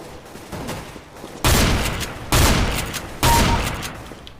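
Nova shotgun firing in a video game, three loud booming shots spaced roughly a second apart, each with a long decaying tail, preceded by softer background noise.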